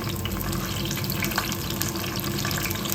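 Two sprigs of curry leaves hit hot oil and fizz loudly and continuously, a dense close-up crackling hiss with no voices over it.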